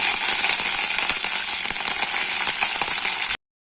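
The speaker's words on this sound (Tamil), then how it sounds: "நான் 2 கொத்து கருவேப்பிலை சேர்த்துறேன்." Curry leaves and popped mustard seeds crackle and sizzle in hot oil for a roadside-style kara chutney, a dense, steady frying hiss with scattered pops throughout, then cutting off abruptly near the end.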